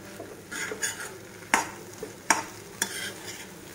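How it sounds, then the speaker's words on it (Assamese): Something frying slowly on low heat in a pan, a soft sizzle broken by several sharp scraping strokes of a spoon stirring, close by and without speech. "কম জুইত লাহে লাহে 5 মিনিটমান এনেকৈ ভাজিলে হৈ যাব"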